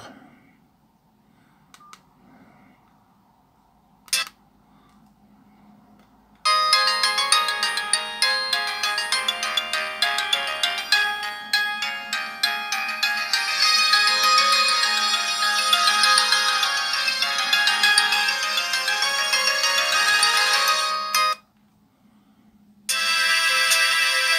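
A few faint blips, then a loud electronic ringtone melody from a Chinese imitation of a Samsung E1200 phone plays continuously for about fifteen seconds, pauses briefly, and starts again.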